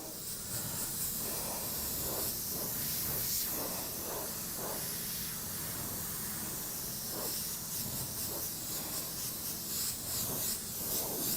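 Spray paint hisses steadily onto a metal surface as overspray, coming in repeated close bursts with a few louder pulses and no talking.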